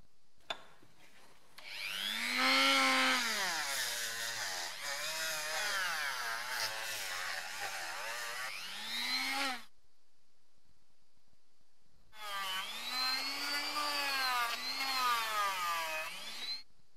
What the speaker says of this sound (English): I'm going to clean the backs of the brass pieces with the rotary tool